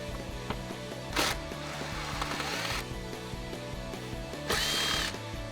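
A power drill drives out screws from the airbox of a Jeep Wrangler TJ, giving two short, loud whirring bursts separated by quieter mechanical fiddling close to the microphone.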